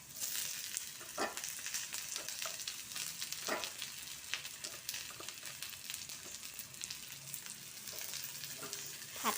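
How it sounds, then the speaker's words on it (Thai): Sliced long eggplant stir-fries in a pan with fried garlic, a continuous close sizzle broken by scattered scrapes and clicks of stirring, with no talk. "เดี๋ยวให้กระเทียมเจียวแล้วเราก็จะใส่ มะเขือยาวลงที่เราหั่นลงไปค่ะ"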